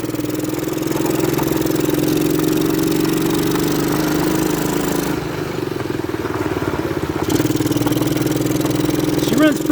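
A 125cc ATV engine runs at a rough, steady idle just after carburetor repair, close and continuous, with a brief dip in level midway before settling back to the same loping putter.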